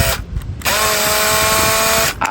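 A power drill whines at a steady high pitch while buffing a weathered, never-cleaned Volkswagen Eos headlight, starting after brief stutters and running loud and close for about a second and a half before cutting off.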